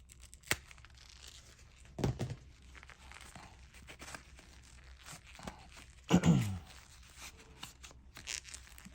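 Packaging for an Analogue Duo console being cut open and torn, with a few sharp rips and crinkles spaced apart over a quiet room background, close and moderately loud.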